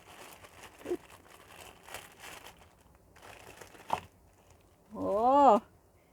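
Crinkling and rustling of a coin package wrapped in many protective layers as it is opened up close, with someone talking at the end.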